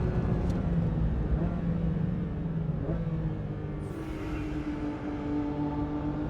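Porsche 911 GT3 RS engine on a race track, a continuous loud mechanical drone with shifting pitch and a rise partway through, heard alone without talk.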